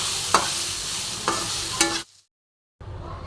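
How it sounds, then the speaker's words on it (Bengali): Papaya and potato pieces frying with turmeric and salt, stirred in a pan with a few sharp scraping strokes over a soft sizzle, close by, before a brief silent gap. "লবণ হলুদ দিয়ে দিয়েছি, এবার ভালো মতন ভেজে নেব।"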